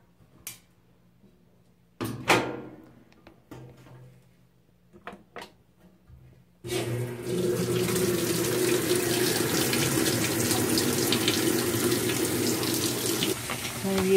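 A GE top-load washing machine, model GTW330ASK4WW, fills with hot water on a heavy whites cycle: a steady loud gush of running water that starts suddenly after a few soft clicks and knocks and then continues without pause.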